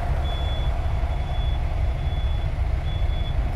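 A truck pulling a trailer backs up with a steady engine rumble, its reversing alarm beeping in evenly spaced, drawn-out tones over the low drone of highway traffic.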